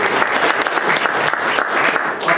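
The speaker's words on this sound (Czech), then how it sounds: "Můžeme dát potlesk." A church congregation applauds after a healing testimony, dense close clapping from many hands, loud and steady throughout with no speech over it.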